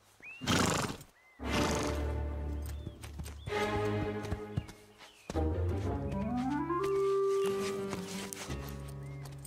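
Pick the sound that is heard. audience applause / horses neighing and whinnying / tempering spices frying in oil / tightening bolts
horses neighing and whinnying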